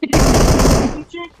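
Rapid burst of automatic gunfire from a weapon in the mobile game PUBG Mobile, loud and dense for about a second, then cutting off into quieter game sounds.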